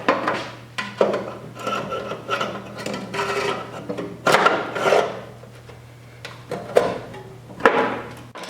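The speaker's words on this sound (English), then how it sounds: "I'm gonna try to clean up here those edges a little bit for welding" Metal edges on a 1974 Triumph TR6 body are cleaned up for welding, giving bursts of scraping and rasping strokes, close and irregular, separated by short pauses over a steady low hum.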